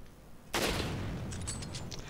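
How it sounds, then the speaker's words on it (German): A rifle fires a sharp, loud shot in the video game Resident Evil 5, followed by a trailing rattle and clicks of the weapon reloading between shots. "Oh, ich hasse dieses Gewehr, dass der erst immer zwischen den Schüssen nachladen muss."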